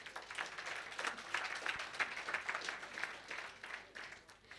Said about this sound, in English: Let us give them all a round of applause.